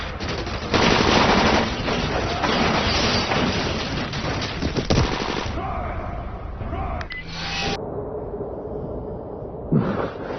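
Loud, rapid bursts of gunfire fill a cutscene from the video game Dying Light, continuous for several seconds before thinning into scattered shots and a final sharp report over lingering room rumble.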